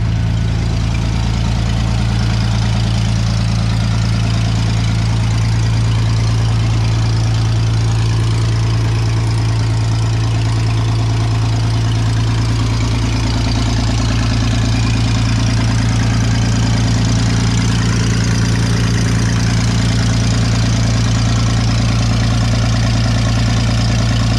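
Vintage Scoopmobile loader engine idling steadily and loudly up close, a continuous low rumble with an even throb that holds unchanged throughout, no voices.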